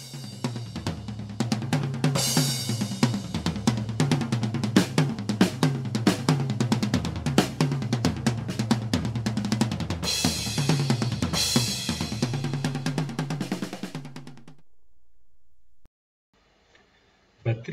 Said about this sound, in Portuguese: Bateria.